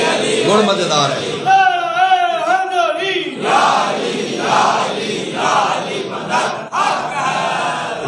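A crowd at a Shia religious gathering celebrating 13 Rajab shouts slogans in unison, loud massed voices rising in chanted bursts with a lead voice calling out between the responses.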